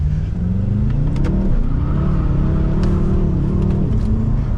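A BMW M5 F10 engine revs and surges while the car drifts through corners on wet roads, loud, close and continuous, with pitch rising and falling as the throttle works.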